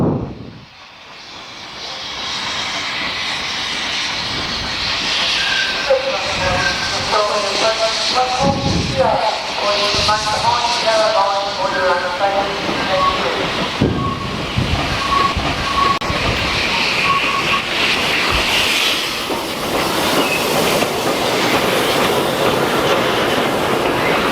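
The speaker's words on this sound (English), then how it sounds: "Choo-choo train on the way." A Mornington Tourist Railway train runs steadily with rumbling, hissing motion and rhythmic clicking of wheels over rail joints, loud and continuous throughout, with faint voices in the background.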